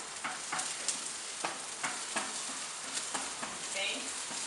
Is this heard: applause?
no